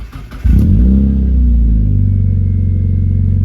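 A car engine cranks briefly, catches with a loud burst and settles into a high, steady idle right after a gauge cluster install, close and unbroken.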